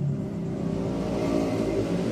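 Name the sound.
Nissan Grand Livina engine running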